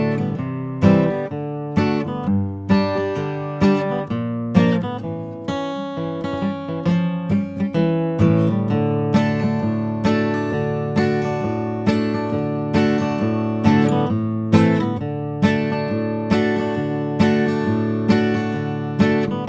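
Acoustic guitar playing the chorus of a bluegrass song, brisk strummed and picked chords in a bouncy 2/4 rhythm, close and clear with no voices.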